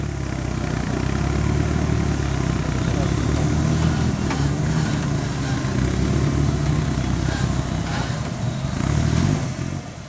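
A 4x4 off-road vehicle's engine drones loudly and continuously as it crawls over an obstacle course at a national 4x4 challenge, with a slight rev near the end and a commentator talking over it.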